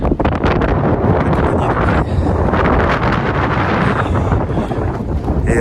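Strong wind tears across the summit of the Acatenango volcano in Guatemala, buffeting the microphone with a loud, continuous roar that barely eases for the whole stretch.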